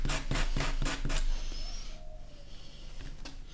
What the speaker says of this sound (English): So I can sand this more.